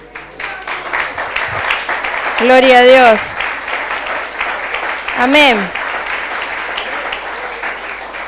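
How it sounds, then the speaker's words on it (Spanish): A church congregation claps in thanks during a Sunday sermon, a continuous wash of clapping running beneath voices calling out praise, with a louder swell partway through. "¿Cuántos le dan gracias al Señor con un aplauso?"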